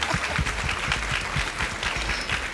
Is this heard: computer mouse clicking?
no